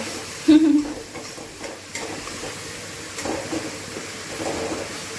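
Onions hit a hot pan and sizzle in a home kitchen, a sharp burst of frying at the start that settles into a steady low crackle and hiss with light stirring scrapes.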